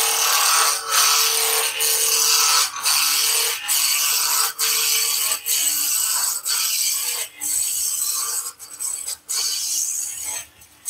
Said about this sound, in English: So just quickly run down with a roughing gouge.